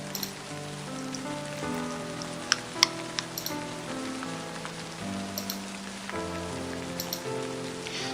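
Steady rain falling on a surface in a visual novel game, a continuous hiss over soft background music with a few scattered drop ticks.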